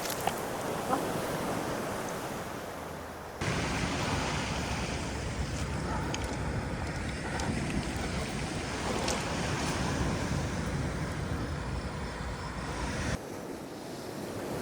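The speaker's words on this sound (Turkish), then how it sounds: "Çok aşırı rüzgar var." Strong wind at the seaside roars steadily across the microphone, mixed with the wash of waves breaking nearby. The gusts hold a constant, heavy rumble throughout.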